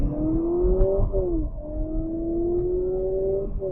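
A 2025 Honda Civic Hatchback Sport Touring accelerating hard, its engine drone climbing steadily in pitch with a brief dip at a gear change, loud and close throughout with no talking.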